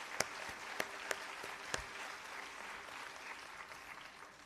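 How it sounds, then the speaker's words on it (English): Audience at a Bharatanatyam arangetram claps for dancer Divya. A few sharp, distinct claps stand out at first, then the applause settles into a soft, steady patter heard from a distance. "please join me in a heartfelt applause for Divya"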